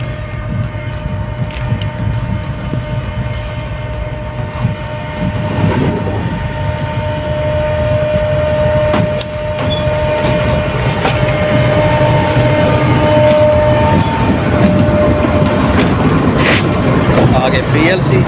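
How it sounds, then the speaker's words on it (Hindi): Freight train 504 Down, led by engine 9025, rumbles past on the main line around a curve near South Block Hut railway station, with a loud continuous roar of wagons, rattling clanks and a steady tonal hum. "कर्व से बल खाती हुई RGY से आती हुई एक freight train 504 down, engine number 9025 की लीड के साथ"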